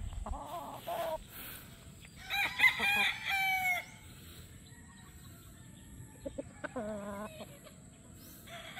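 A white breeder rooster crows loudly once near the middle, with short clucks before and after over a quiet outdoor farm background.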